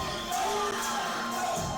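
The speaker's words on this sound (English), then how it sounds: "You hear the crowd, man." Arena crowd at a Broken By Glory 2024 wrestling event cheering and whooping in a steady, dense roar as a wrestler makes his entrance to the ring, with shouts rising above the wash of noise.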